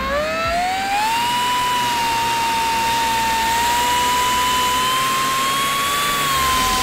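A pneumatic air-powered grinder grinding paint off a metal part, a loud, steady, close high-pitched whine that holds a constant tone, with a slight rise as the tool spins up at the start.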